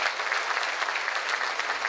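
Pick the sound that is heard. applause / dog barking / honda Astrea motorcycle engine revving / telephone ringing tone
applause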